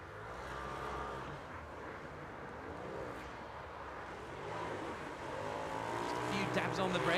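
Race car engine roaring steadily while the rear end slides out through a series of turns in a racing video game, tire noise and revs rising toward the end, with a commentator talking over it throughout.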